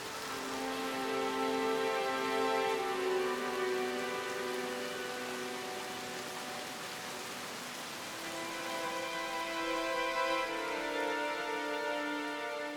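Torrential summer rain falls through the Odaigahara beech forest in a continuous wash of drops, with sustained tonal layers running over the steady downpour.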